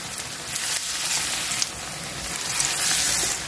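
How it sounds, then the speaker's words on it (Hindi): Chana daal kababs fry in hot oil with a loud, continuous hiss and crackle that swells and eases slightly, close up and with no voices. "ऑयल यहाँ पर गर्म हो चुका है, इसमें कबाब डालती जाऊँगी।"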